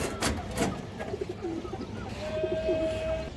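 Soft, repeated cooing of a male pigeon, close by, with a couple of sharp clicks early on and low background murmur.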